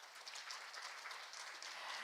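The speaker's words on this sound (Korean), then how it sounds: "여러분 큰 박수 부탁드립니다" Faint, distant applause from a conference audience in a hall after a presentation, steady scattered clapping with no voices over it.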